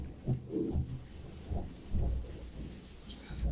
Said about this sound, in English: here thunderstorm is running